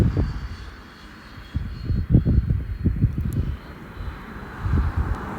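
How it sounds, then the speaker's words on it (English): A remote-controlled model plane flies past at a desert canyon, its engine a faint, distant buzz beneath rumbling wind noise and low thumps, rising and falling over several seconds. "there goes like some really cool remote plane"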